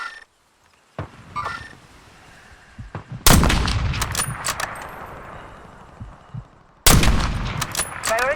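Hostile gunfire in Call of Duty Warzone: sharp, loud shots bursting in at intervals, each ringing out with a long tail, among quieter game sounds and scattered clicks.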